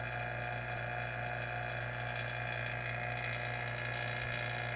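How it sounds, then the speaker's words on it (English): A vacuum pump running for degassing mixed rubber in a DIY mold-making setup, a steady mechanical drone with constant hum and whine, close and unbroken. "Let's fire up the vacuum."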